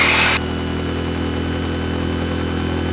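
A Rhino side-by-side engine drones steadily on city streets, a constant mid-pitched running sound heard close, with a brief brighter burst at the very start.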